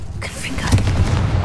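A Confringo blast from Hogwarts Legacy, cast inside a goblin mine: a heavy booming burst that swells and rumbles with a low, sustained roar under game voices and music.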